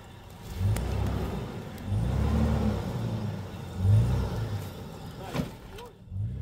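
An off-road Patrol climbs a washed-out mountain track on Mount Moskovskaya, Sakhalin, its engine surging and revving in repeated pushes under strain, close by and fairly loud.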